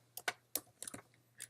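Several quick, crisp keystrokes on a computer keyboard during digital imaging work, clustered in an uneven burst of six or seven clicks with a short pause before a final tap, close and quiet.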